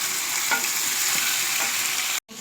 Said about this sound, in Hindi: अब हम इसमें चिकन डाल देते हैं। ये चिकन मैंने 1 किलो लिया है और ये अदरक लहसुन का पेस्ट। अच्छी तरह हम इसको फ्राई करेंगे।